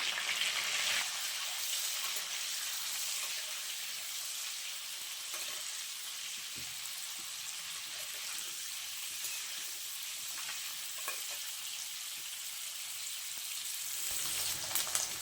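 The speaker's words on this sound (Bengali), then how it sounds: "তেলটা গরম হয়ে গেছে, এখন আমি ডিমগুলো ভেজে নেব" Salted eggs frying in hot oil in a pan give off a continuous, even sizzle and hiss for a long stretch. It is fairly soft and steady, with occasional small crackles and a slight swell near the end.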